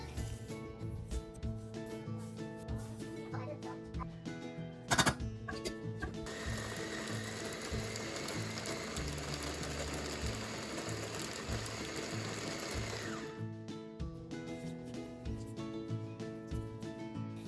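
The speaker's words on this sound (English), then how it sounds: "She puts them all in a blender" A blender motor grinding spices whirs continuously, then a louder, rough grinding roar rises for several seconds before settling back to the steady mechanical whir.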